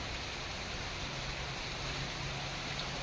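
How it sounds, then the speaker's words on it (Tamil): Steady early-morning rain falls in Tiruchengode, a dense, even hiss of drops on surfaces that continues unbroken at moderate distance, with no voices. "காலையில் மழை பெய்கிறது"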